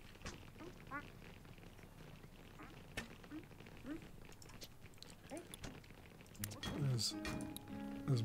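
Small cartoonish duck quacks sound at intervals in the video game Little Big Workshop, partly under someone talking, with busier game effects and tones toward the end.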